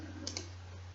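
Two quick computer keyboard key clicks from pressing the Shift key, faint and close over a steady low electrical hum.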